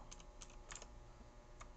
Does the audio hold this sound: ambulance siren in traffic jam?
no